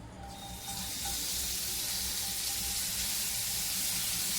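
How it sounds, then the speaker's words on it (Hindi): Mawa (khoya) frying gently in hot ghee in a frying pan, a steady close hiss and crackle that swells after the first moment and then holds evenly, with no talking. "मावे को हमें घी के साथ हल्का हल्का फ्राई कर लेना है"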